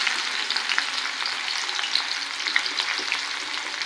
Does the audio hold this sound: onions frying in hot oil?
yes